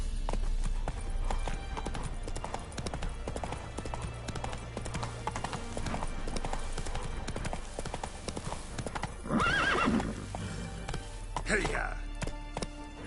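Galloping horse in The Witcher 3, rapid rhythmic hoofbeats running throughout with a sharp whinny near the end, set against game ambience and occasional speech.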